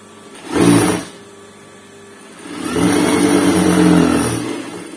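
A sewing machine stitching a blouse runs in two bursts: a short whirring run near the start, a pause, then a longer steady mechanical hum of stitching, close and fairly loud.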